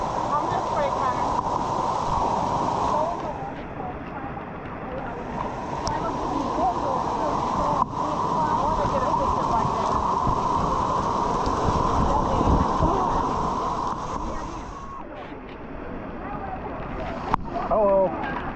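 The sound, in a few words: Waimea Falls waterfall in Hawaii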